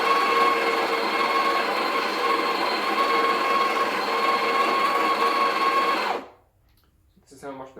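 A Breville Barista Express BES870 espresso machine's built-in grinder grinds coffee beans for a double shot in a steady, loud whir that lasts about six seconds, then stops abruptly and leaves near silence with a faint clatter.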